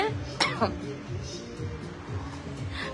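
A single short, harsh cough from someone with a cold, heard early and close, with a voice continuing in the background.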